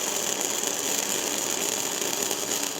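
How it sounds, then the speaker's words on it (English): Flux core wire welding arc produces a steady, close, crackling sizzle that holds constant for the whole short stretch, with no voices over it. "That's about the sound that it should be making for you when you're welding."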